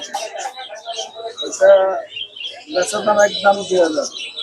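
Cockatiel and other caged birds at a busy pigeon market in Savar, giving short chirps and calls mixed with a crowd's chatter, with several bursts close by amid constant background talk.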